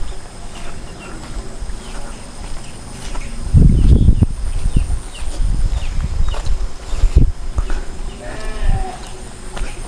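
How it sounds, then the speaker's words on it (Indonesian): Sheep bleat in a rural village after an afternoon rain, with a few scattered calls at middle distance. The outdoor hush, faint insects and some quiet background talk are heard beneath them. "Ada suara domba."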